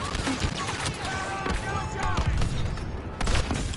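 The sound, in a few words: barrage of explosions in video game Star Wars Battlefront 2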